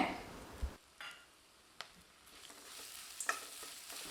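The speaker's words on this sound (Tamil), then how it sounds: "இப்போ துருவி வச்ச தேங்காவை சேர்த்திக்கலாங்க" Grated coconut frying softly in a pan, a faint low sizzle with a few brief stirring scrapes and light utensil taps.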